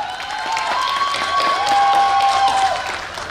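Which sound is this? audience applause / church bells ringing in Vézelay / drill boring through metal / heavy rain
audience applause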